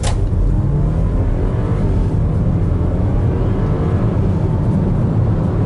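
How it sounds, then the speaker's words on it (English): An Audi Q5 sprints from 0 to 60 mph with its auto start-stop turned off, giving a loud, steady engine roar heard from inside the cabin that builds and sustains throughout with no talk over it. "So let's give it a test from 0 to 60 miles an hour."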